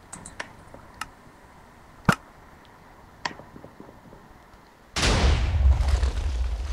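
Cannon fired at mid-range in Minecraft, a few faint sharp clicks followed by one loud, sudden booming blast that rumbles on for a couple of seconds.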